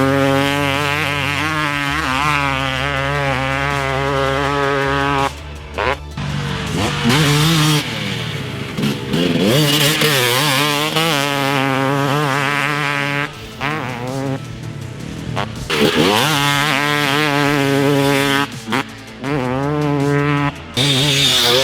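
TM250 two-stroke dirt bike with a carbon build, ridden hard: a loud, raspy engine rising and falling through revs and gear changes, with brief throttle-off dips, continuous and close.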